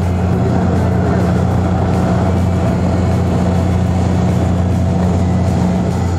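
A ferry boat leaving the Namkhana ferry ghat on the crossing toward Gangasagar, with its engine running as a steady, loud low drone and constant hum that carries on unbroken throughout, with no talking.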